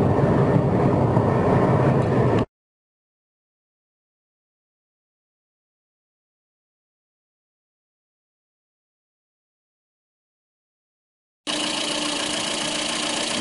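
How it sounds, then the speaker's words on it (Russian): A Datsun on-DO sedan's ordinary VAZ 87-horsepower engine runs at a steady, even idle hum with no talk, sounding for a couple of seconds and then again after a long stretch of silence. "Двигатель обычный вазовский."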